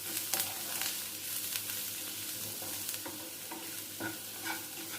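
Eggs are being stirred with salt and turmeric for an omelette, over a steady low hiss of frying, with soft repeated scraping and tapping of a utensil against the bowl.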